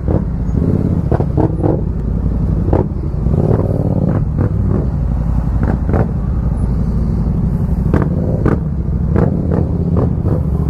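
A motorcycle ridden on an open road, its engine a steady loud drone with wind rush and repeated short bursts as the throttle changes, heard close up from the rider's position.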